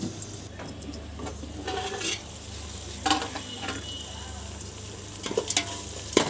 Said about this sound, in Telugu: ఈ ఆనియన్స్ వేగేంత వరకు వేగుతున్నాయి కదా.